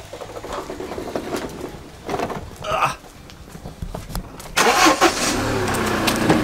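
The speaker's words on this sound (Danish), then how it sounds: "Wow, så tænder du bare bilen." A car engine cranks and catches, with a short starter whirr followed by a louder mid-pitched idle that settles into a steady running rumble, fairly close.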